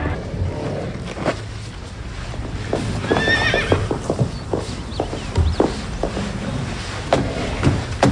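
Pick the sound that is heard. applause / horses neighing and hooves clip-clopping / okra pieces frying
horses neighing and hooves clip-clopping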